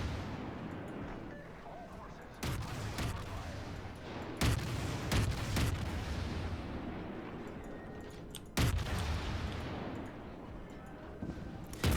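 Main guns of the Krasny Krym cruiser firing in World of Warships, several sharp thunderous salvos with booming rumbling tails over a steady low ambient drone, some shots in quick clusters, with someone talking over them.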